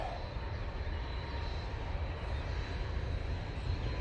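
A TUI passenger jet landing at Manchester Airport, a steady low engine rumble and roar held at even loudness throughout, with no talk over it.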